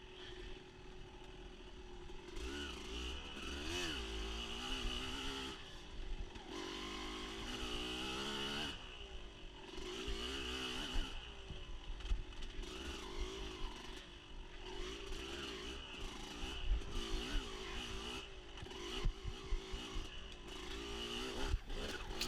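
A dirt bike on a motocross track with broken-down braking bumps: the engine revs and drops repeatedly as the rider brakes and accelerates, with clattering bumps and wind rush under a steady engine drone.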